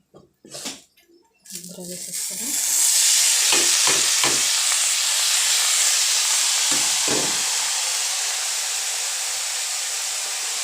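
Grated coconut frying in a pan for a curry, a loud steady sizzle with stirring scrapes, beginning after a few brief spoken remarks and then holding strong and continuous to the end.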